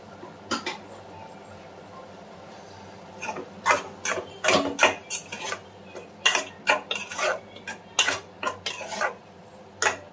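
Ridge gourd curry with turmeric being stirred in a pan, a spoon clinking and scraping against the metal in irregular bursts that grow busier toward the end, with a low steady hum underneath.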